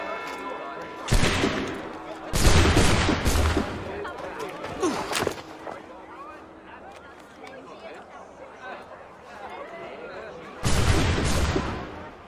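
Gunfire and a cannon volley in Assassin's Creed 3, several loud sharp blasts with crackling tails separated by quieter stretches of battle noise and voices.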